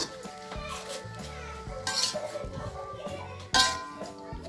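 Spatula stirring green chili stir-fry in a pan, metal scraping and clinking against the cookware in uneven strokes, with a sharper clank toward the end and faint background voices.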